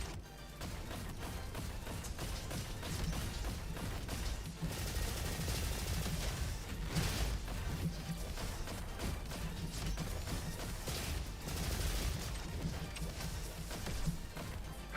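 Shotgun blasts and other gunfire in the game Destiny, with dense repeated shots and impacts in rapid bursts across the whole stretch, layered over a busy game soundscape, no talk.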